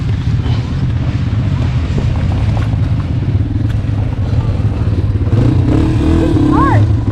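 A dirt bike engine at a hare scramble on a farm, a loud continuous motor drone with revving near the end, heard up close under people talking.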